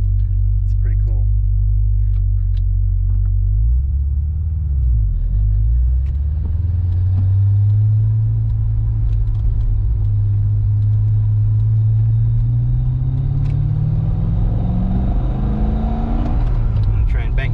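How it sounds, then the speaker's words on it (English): A Corvette fitted with an LG Motorsports short-throw shifter idles with a deep rumble, then clunks into gear as the engine blips to match revs and rises in pitch; someone talks over it. "You can hear it clank into gear compared to the stock one. Love that rev match. It's the auto blip."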